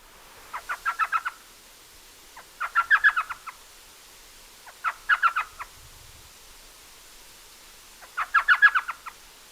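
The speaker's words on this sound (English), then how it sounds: "let's listen to the elf owl." An elf owl gives four clear bursts of rapid chattering yelps, each lasting about a second, spaced a few seconds apart against a quiet background.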